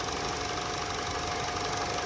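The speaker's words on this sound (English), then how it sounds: "You can hear the injectors spraying and releasing" A running car engine with a high-pressure fuel pump and injectors gives a steady, dense mechanical ticking and whirring, loud and close, with no voices.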